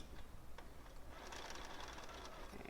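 A sewing machine stitches a seam on a Cuddle Minky fabric pillow, its rapid steady whirring running continuously at close range with faint quiet talk beneath.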